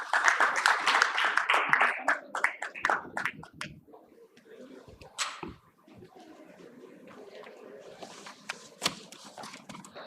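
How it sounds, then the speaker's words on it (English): Applause from the audience at an investors' session on financial inclusion in India, a dense burst of clapping that dies down after about three seconds, leaving quiet room noise with a few scattered claps. "Please welcome with a round of applause."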